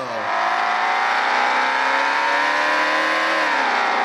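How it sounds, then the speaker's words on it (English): Race car engine from the LASTCAR racing video game at Phoenix drones at constant high revs, a loud sustained buzzing tone that shifts slightly in pitch near the end, with no talk over it. "let's go ahead and take a lap around the track now with the original sound effects"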